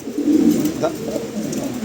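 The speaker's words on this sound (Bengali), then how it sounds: "খুবই চমৎকার একটা কবুতর" A pigeon gives a low, throaty coo near the start, followed by softer murmuring tones close by.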